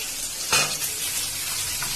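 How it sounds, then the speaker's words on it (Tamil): Dried chillies sizzle and crackle in hot oil, a steady frying hiss with a brief louder burst as they are stirred in the pan. "காய்ந்த மிளகாய் போட்டு நல்லா வதக்கணும்"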